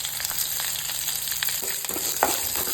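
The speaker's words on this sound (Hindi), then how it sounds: "दोनों जो है ना अच्छे से क्रैकल होने के बाद अब हम इसमें डालेंगे कड़ी पत्ता और थोड़ा सा हींग" Cumin and mustard seeds crackle and sizzle in hot oil with curry leaves and asafoetida for a Goan coconut dal tempering, a steady close frying hiss with small pops and light stirring.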